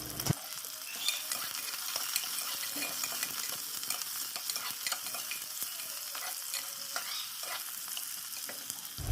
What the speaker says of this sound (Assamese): পিঁয়াজখিনি অকণমান ৰং চোৱা হ'লৈকে ভাজি থাকিব লাগে